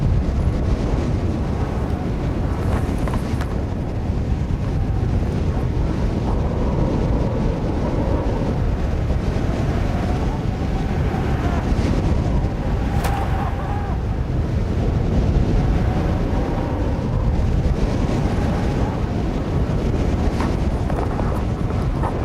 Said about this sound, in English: that corner behind me is the most exposed place, which should make that the windiest spot on this whole mountain